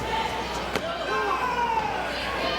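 A wrestler is slammed back into the ring at a Ring of Honor tag team event, a single sharp thud cutting through the steady crowd roar, with a commentator talking over it.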